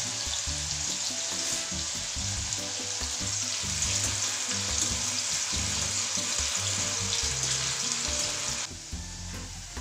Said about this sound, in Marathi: आता हे काप आपण तेलामध्ये तळून घेऊ. जास्त तळायचं नाही, याला हलकंसं तळून घ्यायचं.